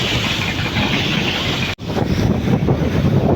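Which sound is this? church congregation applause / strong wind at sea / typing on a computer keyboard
strong wind at sea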